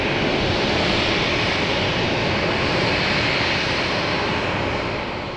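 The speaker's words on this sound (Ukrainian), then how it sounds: "І от нарешті літак приземлився у Херсоні." A passenger airliner landing at Kherson airport on the first flight from Kraków, giving a loud, steady roar of jet engine noise that holds for several seconds and fades slightly at the end, with no voices.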